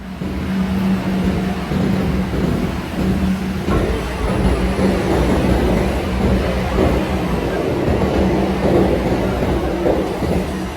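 Loud, steady rumble of a Kolkata underground metro train running, a continuous mechanical drone with a low hum and faint rattling throughout.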